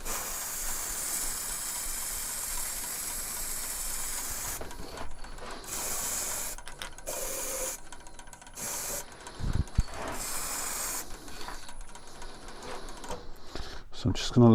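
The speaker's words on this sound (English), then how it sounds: "I need a spray one so that I don't get all the colour bleed." A steady hiss of aerosol cellulose sanding sealer being sprayed on a coloured vase runs through most of the clip, broken by short pauses and faint mechanical clicks, with some talking nearby.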